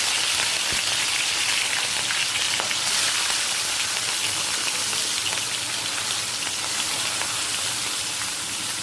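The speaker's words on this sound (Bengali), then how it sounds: "এবার মাছগুলোকে দু পিঠি ভালো করে ভেজে নেবো" Steady, dense sizzling and crackling of rohu fish frying in mustard oil, continuous and close throughout with no talking.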